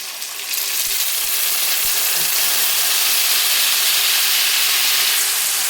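Spice paste frying in a pan with potato, pumpkin and chickpeas, a loud, bright sizzle that bursts in after a brief quieter moment and then hisses steadily, with a couple of faint knocks early on.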